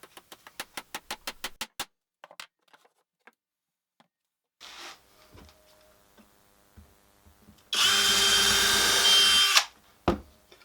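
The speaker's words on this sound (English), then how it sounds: "I'm going to do a pilot hole with my drill, slightly smaller than the nail" A loud, steady power drill whirs for about two seconds while drilling a pilot hole in wood, preceded by a quick series of sharp ticks and faint handling noises.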